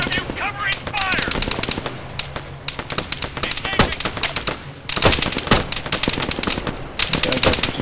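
Dense Arma 3 combat gunfire, with rapid machine-gun bursts and single shots crackling almost without pause, loud and close, with shouted voices mixed in at the start.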